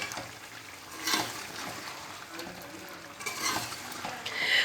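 Turnips get stirred into chicken cooking in a pot for shaljam gosht, a quiet sizzle with intermittent scraping and stirring sweeps, close and low in level.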